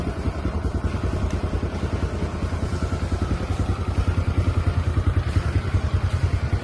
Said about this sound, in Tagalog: Yan pong motor na yan ay Honda Wave S125.